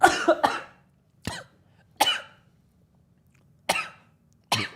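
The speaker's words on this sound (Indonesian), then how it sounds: "Jadi batuk." Several harsh coughs, close to the mic, in an irregular series with quiet gaps between them and no talking.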